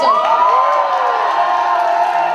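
A cosplay contest audience at the DeTo 2017 convention cheers loudly for a Zelda Hyrule Warriors character, a dense crowd roar with whoops and high shouts sustained throughout.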